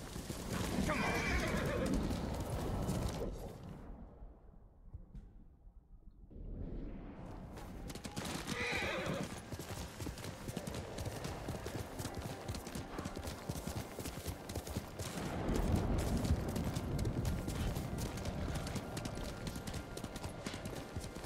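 In the Ghost of Tsushima video game, a horse gallops with a steady rapid clatter of hooves and whinnies loudly, the sound dipping briefly near the start before the galloping rushes on with dense game noise.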